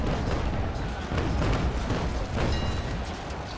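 Naval cannons on a sailing warship in the game Naval Action fire a broadside, a dense, rumbling series of heavy booms rolling together loudly for several seconds without talk.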